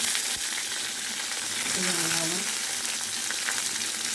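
Tomato, green chilli and curry leaves sauté in hot oil for a tamarind fish curry, a steady close sizzle running throughout with a brief clank of utensil against pan midway.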